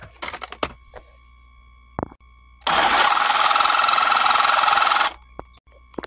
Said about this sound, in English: just cut a line across it so I can unscrew it with a flathead screwdriver